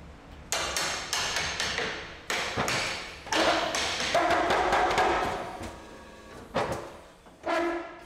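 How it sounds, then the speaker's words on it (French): In a cooperage, a mechanism tightens oak barrel staves to close the base into a barrel shape; a series of sharp, close knocks and thuds with uneven pauses sounds out alone. "il y a un mécanisme qui vient serrer les douelles jusqu'à temps de fermer complètement le bas et d'avoir une forme de barrique"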